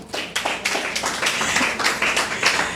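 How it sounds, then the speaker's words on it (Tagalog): Audience members clap together during a church teaching session, producing a brief, dense burst of overlapping hand claps with a slightly uneven rhythm, close and fairly loud, with no speech. "Palakpak."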